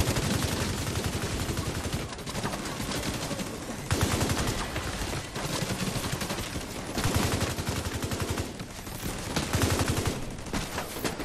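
Turret gunfire in The Division 2, loud sustained automatic bursts rattling almost without pause, with short gaps between volleys, close and dominating the scene.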